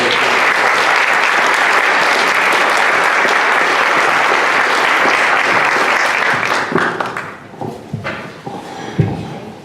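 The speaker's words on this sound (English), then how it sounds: "Let's give her another round of applause." A room at a Howell Township Board of Education meeting breaks into a full round of applause, loud and sustained, then thinning into scattered claps, shuffles and small knocks as it dies away near the end.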